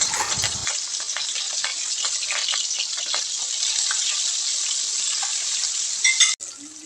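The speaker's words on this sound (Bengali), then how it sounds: "এবারে কড়াইতে তেল দিয়ে মাছগুলো ভেজে নেব।" Fish sizzles and crackles in hot oil in a wok, a loud, dense frying hiss that continues steadily for several seconds before a brief clatter near the end.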